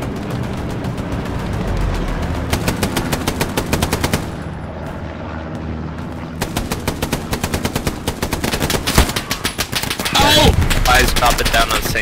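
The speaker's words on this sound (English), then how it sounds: "We're getting shot at." Gunfire in the WWII shooter Hell Let Loose: loud, dense machine-gun bursts and rapid shots crack repeatedly over a steady battlefield din, pausing briefly before resuming in heavy volleys near the end.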